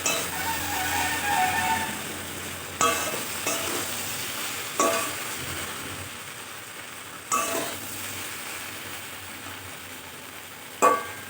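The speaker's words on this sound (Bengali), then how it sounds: "ঢাকাটা খুলে আবারও ভালো করে নেড়ে চেড়ে দিচ্ছি" Okra and potato bhindi masala being stirred in a pan over low heat, with a soft steady sizzle broken by several sharp scraping clinks of the spoon against the pan.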